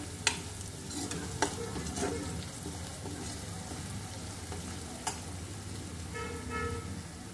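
A spoon stirs asafoetida in a hot frying pan, giving soft scraping clinks over a faint steady sizzle, with a few sharp taps against the pan.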